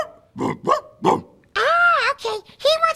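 A dog barks several times in short bursts, interleaved with a speaking voice nearby; the voice may be mimicking the barks.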